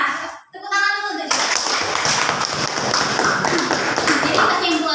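A classroom of students claps together during a civics lesson in Indonesia, a dense burst of many hands beginning after a brief pause and continuing steadily at close range, with children's voices mixed in.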